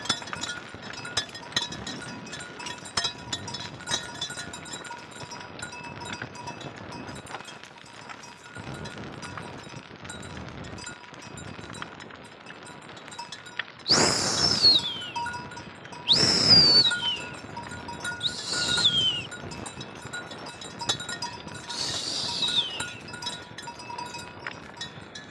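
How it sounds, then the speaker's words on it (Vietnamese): A herd of goats, mostly females with three males, out in the rain on a farm, with several loud bleats from nearby in the second half over steady rain hiss and faint clinks. "Đàn dê này thì chỉ có 3 con đực thôi các bạn"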